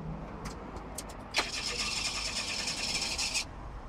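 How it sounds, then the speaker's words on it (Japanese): A parked car's engine is started: quiet clicks, then a sharp catch as it fires and settles into a steady, fairly faint idle for a couple of seconds before fading. "ちょっとエンジンかけてもらっていいですか？"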